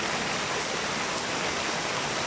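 Steady rain pours down in a dense, unbroken hiss, loud and close, with no voices over it, during a wet day in San Mateo, Rizal.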